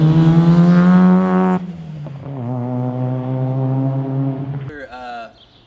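A Mazda RX-7 FC rotary engine revs through a Pexi GT exhaust made for an FD, with the resonators cut off and a 3-inch pipe. A loud, droning rev holds, dips, climbs again, then cuts off abruptly.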